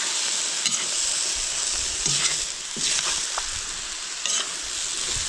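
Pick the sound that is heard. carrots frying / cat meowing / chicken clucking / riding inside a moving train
carrots frying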